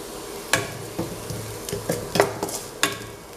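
Onions fry in a pan with garam masala and chili powder while a spoon stirs them, giving a steady low sizzle broken by sharp, close scraping clacks that repeat every half second or so.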